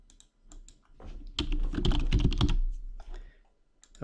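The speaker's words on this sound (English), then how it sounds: "And we're going to actually type in the word happy there." Close computer keyboard typing: a few scattered key taps, then a rapid burst of clattering keystrokes spelling out a word, tapering to a few final taps, with no talk.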